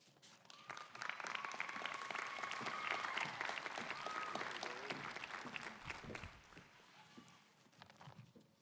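A graduation audience applauds a student speaker being welcomed, sustained dense clapping that swells, holds for several seconds, then tapers off.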